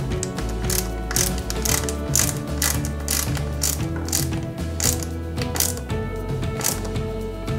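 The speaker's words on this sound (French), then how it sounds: "on y met 2 vis DS01 argentées que l'on vient fixer" Small silver DS01 screws are driven into the chassis of a Bugatti Veyron 16.4 Super Sport scale model car, giving close, continuous rapid ratcheting clicks from a screwdriver.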